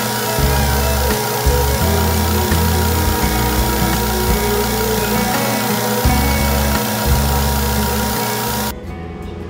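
A belt sander that has been breaking its belts runs loud and steady in a workshop, a continuous droning motor whine with a low fluttering rumble, cutting off abruptly near the end.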